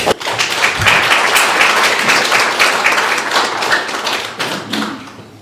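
A crowd claps at a ceremony marking the 146th anniversary of Dosan Ahn Chang-ho's birth, loud and dense for several seconds before thinning and fading toward the end.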